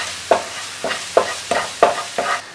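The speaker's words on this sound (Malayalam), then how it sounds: "അത് നല്ലോണം മിക്സ് ചെയ്ത് കൊടുക്കാം." A spoon stirs turmeric powder into masala in a pan for Mumbai masala bonda, giving six evenly spaced, close scraping strokes with a light sizzle underneath.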